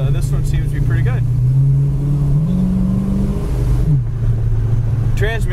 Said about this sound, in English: Engine sounds great, exhaust sounds nice.